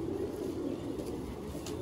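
A Sialkoti pigeon held in hand gives low, soft cooing over a steady background hum, close to the listener.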